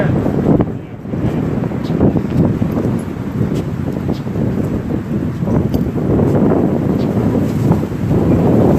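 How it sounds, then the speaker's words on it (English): Strong wind buffets an outdoor microphone in a continuous loud low rumble throughout, with no pauses. "Maybe there's less wind over here."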